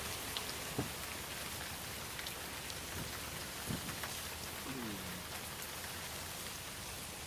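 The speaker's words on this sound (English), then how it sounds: "Yeah, that's hail." Small hail falls outdoors near Petrified Forest, Arizona, as a dense steady patter of tiny pellets with a few sharper ticks, moderately faint and continuous.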